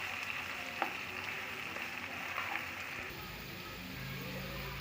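Potatoes with salt and spices being stirred in a sizzling pan for aloo jeera, a steady close frying hiss throughout with a few light spoon scrapes and clinks against the pan, no voices.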